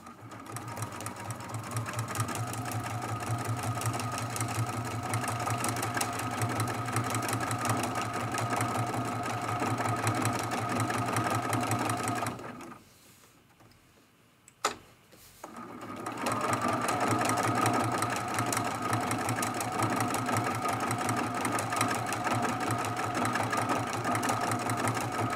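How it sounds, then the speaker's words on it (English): A sewing machine quilting stitches through a lamp post art quilt, a steady close mechanical whir running continuously, stopping for a few seconds with a single click, then resuming. "we're going to jump right down here into that previous quilt line. Lock that stitch."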